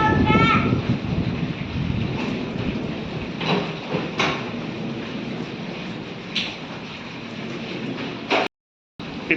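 A thunderstorm with heavy rain and a dusty windstorm sweeps in after a long heat wave, with a loud rumble at the start and broad, rushing rain noise throughout, broken by sharp cracks and knocks while voices come and go.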